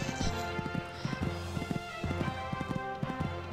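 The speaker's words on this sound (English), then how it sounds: "This horse is really jumping well for it." Horse hooves in a horse-riding video game clip-clop in a quick, repeating galloping rhythm, close and clear, while game music plays underneath.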